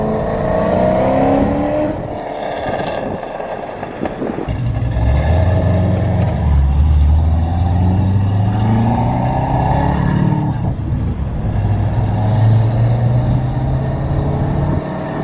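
A boosted 2007 Nissan 350z drives with a steady, loud engine drone and rising revs, close by, with no talk over it.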